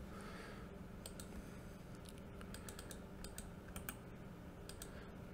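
Someone types on a computer keyboard, a quiet scatter of soft clicking keystrokes with irregular rhythm over a low background hum.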